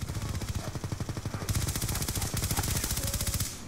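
Rapid automatic gunfire in the video game Black Ops 2, a sustained close, loud rattling stream of bursts with no pause, heard alone.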